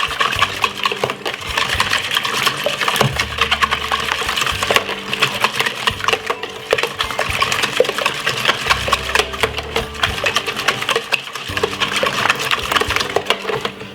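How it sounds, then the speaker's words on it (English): A whisk beats a mixture of eggs, milk and mixed herbs in a bowl for fried chicken, giving a steady, rapid scraping and clicking rhythm that runs close and continuous throughout. "use the whisk and give it a lovely whisk like this."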